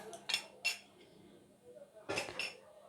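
A spoon clinks against a dish while adding a spoonful of sugar to biscuits for a biscuit cake, with a few quiet, close metallic taps in two short bursts.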